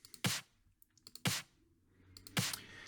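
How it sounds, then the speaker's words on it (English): Three crisp layered snare drum sample hits with a short, bright decay land at a steady pace, with faint ticking taps scattered between them. "the first 2 layers are these snares."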